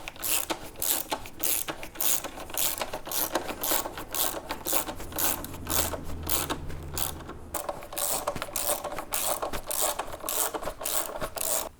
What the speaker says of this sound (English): Tighten down the 4 mounting bolts at the top of the pannier racks. Do this using a 6 millimeter Allen drive tool.